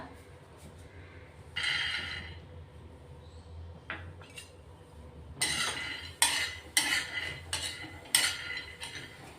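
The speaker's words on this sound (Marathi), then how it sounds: "अर्धी वाटी शेंगदाणे भाजून घेतोय आपण आता" Peanuts dry-roasting in a pan, stirred with a metal utensil in several bursts of scraping and rattling, separated by quieter gaps, with clinks against the pan and no speech.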